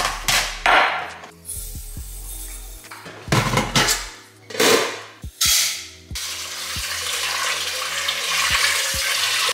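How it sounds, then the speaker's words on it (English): White rice being washed in water in a kitchen, with splashing, swishing and sloshing bursts, clinks of a pot, and a steady running-tap wash behind it, close and fairly loud. "Okay, we got our washed rice, no starch left on that."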